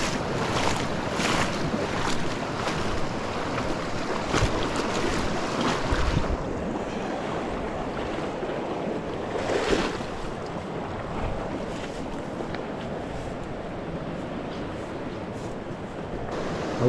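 Fast-moving water rushes steadily along a small trout stream, a close, continuous churning wash with some buffeting wind noise on the microphone and no voices.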